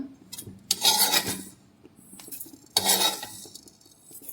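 A utensil scrapes and stirs ingredients roasting in a pan over lowered heat in two loud bursts separated by quieter clinking, with no voices.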